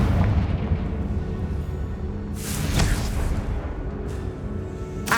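A Confringo blasting curse explodes in Hogwarts Legacy, a sharp fiery bang with a crackling tail over rumbling game background, followed by a brief second burst near the end.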